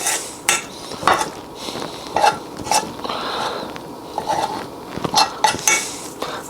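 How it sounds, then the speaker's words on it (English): A utensil cuts through chili relleno casserole in a pan, giving a run of close scraping and clinking knocks against the pan at an uneven pace, with no talking. "I'm just going to cut this in this pan"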